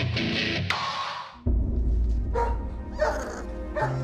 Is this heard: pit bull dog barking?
yes